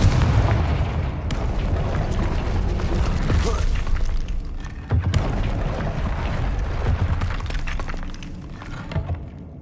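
In Hogwarts Legacy, the Confringo spell sets off loud, crashing blasts mixed with shattering debris in two heavy waves. A voice speaks over the noise.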